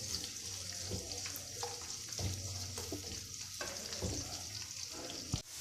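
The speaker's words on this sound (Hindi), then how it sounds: "और प्याज को जो है वो ब्राउन करेंगे।" Soft sizzling of chopped onions browning in a pan, with occasional stirring scrapes and clinks, fairly quiet and close throughout.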